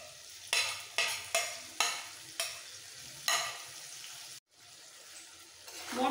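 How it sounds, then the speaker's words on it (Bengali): Potatoes and tomatoes with ground coriander, ginger and chilli paste frying in a pan, a steady sizzle broken by a series of sharp scraping stirs, close and clear, with a short silent cut partway through. "মশলার সাথে আলু টমেটো একসাথে কষিয়ে নেবো।"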